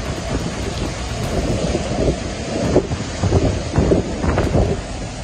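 Super typhoon wind roars and buffets continuously outside a church in Batanes, with rushing heavy-rain noise and occasional gusty surges and thumps.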